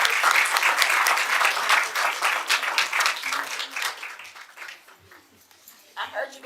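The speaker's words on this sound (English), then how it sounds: "let's give them another round of applause." Audience applause at a regular public meeting, honoring students from an early college, as dense clapping that fades out over several seconds and leaves a few scattered claps and faint voices.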